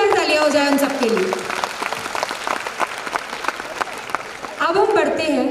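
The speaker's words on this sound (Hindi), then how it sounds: "एक बार जोरदार तालियां हो जाए उन सबके लिए।" An audience applauds a children's religious school performance with sustained crowd clapping, while a voice speaks over the applause at the start and again at the end.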